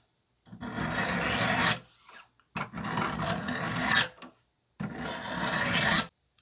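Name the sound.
knife edge being sharpened on Wicked Edge WE40 600 grit stones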